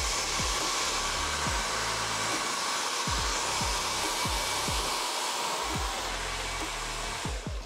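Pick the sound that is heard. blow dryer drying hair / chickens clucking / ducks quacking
blow dryer drying hair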